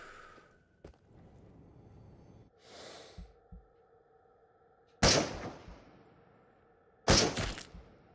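Two sharp, loud gunshots a couple of seconds apart ring out in the VR shooter Into the Radius inside the Pobeda Factory, each with a short echoing tail over a quiet, low ambient hum.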